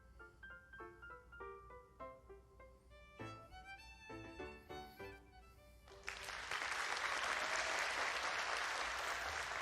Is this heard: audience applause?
yes